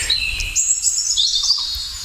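A male parrot near its nest in a forest gives loud, repeated high chirping calls close by, with soft insect-like background hum and no talking.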